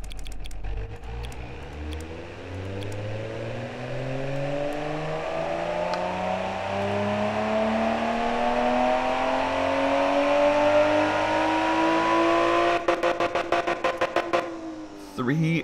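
A tuned car engine in the game Automation revs on a dyno, rising in smooth rising harmonic sweeps over about twelve seconds before cutting off into a few sharp clicks.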